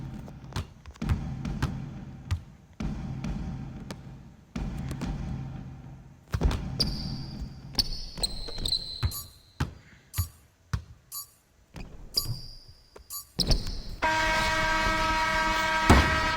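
Basketball video game action with several sharp thumps of the ball striking the backboard, spaced irregularly among squeaky shoe sounds and game effects, ending in a steadier crowd-like wash.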